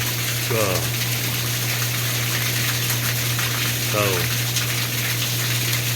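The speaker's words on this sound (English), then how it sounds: "we'll bleed until we get good clean water like that out of it" Water gushes steadily from a bleed point on a boiler heating system with a failing circulation pump, a constant hiss under a low hum, twice cut by brief rising squeaks while a voice speaks briefly.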